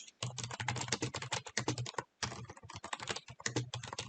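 Rapid clicking from a computer keyboard as commands are typed into an Ubuntu Linux terminal. The keystrokes are close and busy, with one brief pause midway.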